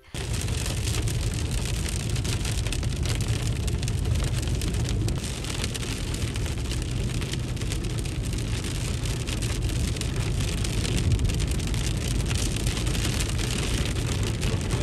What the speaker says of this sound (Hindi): खूबसूरत बारिश हो रही है।